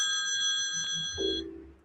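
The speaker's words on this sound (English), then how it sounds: "Phone's going to ring." A telephone rings indoors near a lawn mower, a steady bright electronic ring tone sounding continuously for about a second and a half before cutting off.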